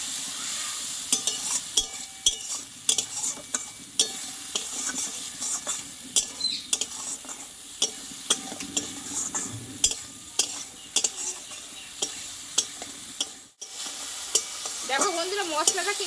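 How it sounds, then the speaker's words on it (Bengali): Poppy seed and mustard paste masala frying in oil as it is stirred, a constant close sizzle broken by frequent scraping and tapping strokes of the spoon against the pan. "মশলাটা একটু ভালোভাবে একটু কষিয়ে নেবো"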